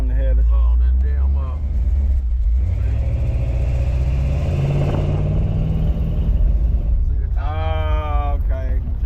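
A 1972 Chevrolet Impala engine rumbles through headers with a deep, loud, steady low drone from close by, said to sputter a little. People talk over it at the start and again near the end.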